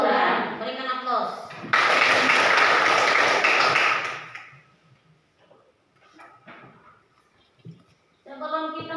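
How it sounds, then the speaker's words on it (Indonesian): A classroom of students bursts into loud, dense clapping that lasts about two seconds, then fades out. Teacher talk comes before and after it. "Berikan aplaus."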